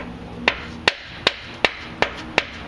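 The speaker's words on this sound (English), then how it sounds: "now you take your socket and just tap it into place" A socket tapped with a hammer to seat a pitman shaft seal, six sharp metallic knocks at a steady, roughly even pace, close and clear over a low background hum.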